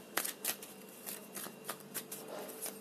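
A tarot card deck being shuffled during a reading, with a quick series of soft riffling flicks and papery slaps, close and quiet, with no talking.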